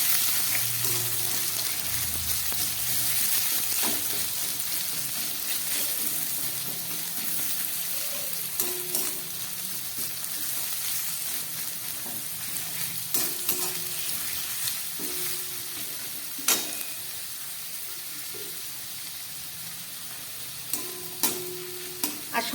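Chopped onions and crushed garam masala fry in a pan for paneer malai curry, a steady hiss of sizzling oil with occasional sharp scrapes and taps of a stirring utensil, no voices.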